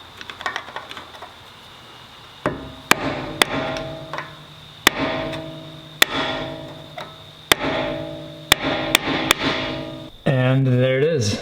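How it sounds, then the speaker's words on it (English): Sharp hammer blows stake the axle nut on a Subaru STI in a workshop, landing as about a dozen loud, ringing metallic strikes spaced a second or so apart, with a brief rattling scrape at the end. "Alright, I should be able to stake this properly."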